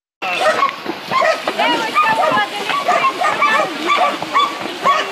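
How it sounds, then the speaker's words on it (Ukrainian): Floodwater from the Lyznytskyi stream carries ice through flooded yards near a bakery, a steady rushing and sloshing of moving water heard under continuous talk. "Весь потік води із Лизницького потоку і з льодом пішов сюди"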